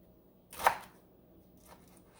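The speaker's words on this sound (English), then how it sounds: "Now, after I cut it, I'm going to just chop it up like that" A single knife chop slices through rolled collard greens on a cutting board, one sharp close cut followed by a faint softer tap, with no talking.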